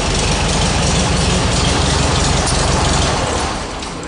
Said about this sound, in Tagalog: Elvis, patayin mo nga yung makina muna